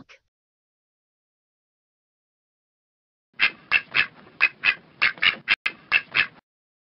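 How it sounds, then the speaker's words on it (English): A duck gives a rapid series of about a dozen loud, clear squawking quacks in close succession after a stretch of silence, with no other sounds around. "Duck says, quack quack."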